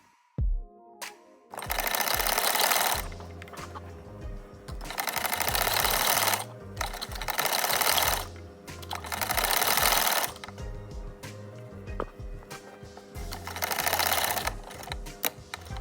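Domestic sewing machine stitching the side seam of a kurta, running in four long loud bursts of rapid mechanical chatter separated by short pauses, with no voices.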